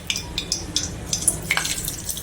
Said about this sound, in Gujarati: આપણે રાઈ જીરું તકડી ગઈ છે